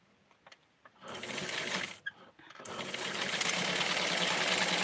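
Sewing machine runs in short bursts while stitching lace ruffles for a Barbie doll dress: a brief start, a pause, then a longer steady close whir.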